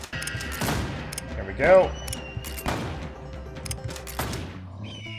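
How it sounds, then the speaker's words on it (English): Gunshots from a piercing weapon in the Westerado video game, several sharp cracks spaced a second or so apart with ringing tails, under a voice talking. "I have to be careful about shooting backwards, as you might imagine, with this piercing weapon of mine"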